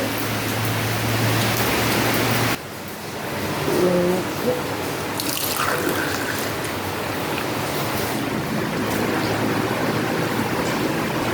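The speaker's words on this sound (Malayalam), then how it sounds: "രാവിലെ തന്നെ നല്ല മഴയാണ്" Heavy morning rain pouring steadily, a broad, continuous wash of noise that runs the whole way without breaks, with a faint hum at the start and a few small household knocks under it.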